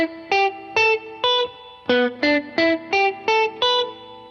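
Palm-muted staccato electric guitar notes in a math rock style, about eleven short, clipped picks in a steady rhythm, loud and close with no talk.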